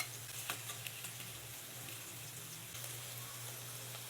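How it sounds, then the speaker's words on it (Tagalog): Potatoes and carrots frying in hot oil give a steady, faint sizzle with soft crackles and a low hum underneath, continuous throughout. "painitin ang mantika, tsaka iprito ang patatas at carrot"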